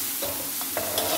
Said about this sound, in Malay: Sekarang masukkan pula kita punya udang dan kita goreng.